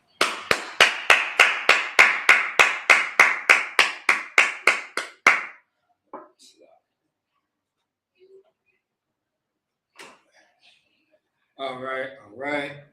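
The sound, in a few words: audience clapping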